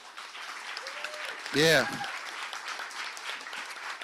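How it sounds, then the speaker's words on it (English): A live seminar audience applauds in a moderate, continuous patter of clapping heard from within the room, while someone speaks briefly over it and a short tonal swell rises in the middle. "So let's give yourself a round of applause."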